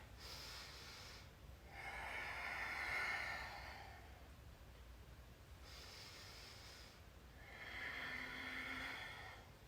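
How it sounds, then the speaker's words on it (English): Slow, audible breaths come in two long cycles during a gentle slow-flow joint release exercise, each a soft airy inhale and exhale, close and quiet with no talking. "And just breathe."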